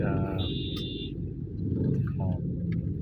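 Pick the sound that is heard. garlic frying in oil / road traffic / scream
road traffic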